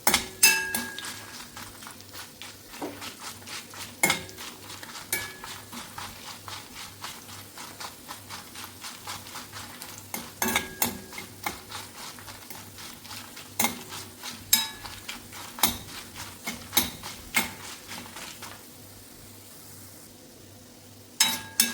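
Whole coriander seeds and spices sizzle in a pan for Kerala okra curry while a utensil scrapes and clinks against it in repeated quiet strokes, over a faint steady fry.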